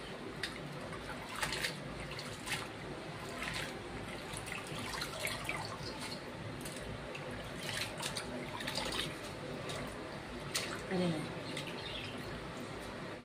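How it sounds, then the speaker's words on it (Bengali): Radish greens are rinsed in water several times, with faint splashing, trickling and dripping sounds at a low level and occasional soft knocks in the background. "চার পাঁচবার ভালো করে ধুয়ে নিতে হবে।"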